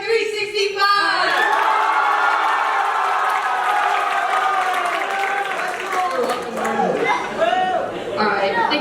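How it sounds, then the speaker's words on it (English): Audience at a school fusion show cheers loudly, with whoops, shouts and some clapping rising after a brief pause and carrying on steadily as a dense crowd roar. "you guys are all going to cheer"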